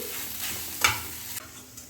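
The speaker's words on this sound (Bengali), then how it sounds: "ভালো করে মিশিয়ে দিচ্ছি" A spatula scrapes and stirs a sizzling sweet potato dish in a pan, soft continuous frying hiss with one brief clack of utensil against metal, close by.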